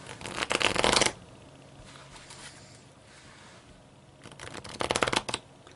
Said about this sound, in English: and it riffles up the pack, extends, and sort of turns a little bit at the same time